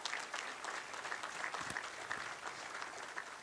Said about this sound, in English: let's give all the Hall of Famers a quick round of applause